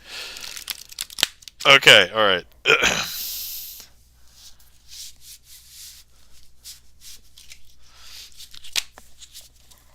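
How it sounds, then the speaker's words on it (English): A deck of playing cards is riffled and shuffled by hand during a sleight-of-hand magic livestream, giving a brief, close, crisp burst of flicking cards with a short spoken remark just before it, then quiet room tone. "Let me attempt another shuffle."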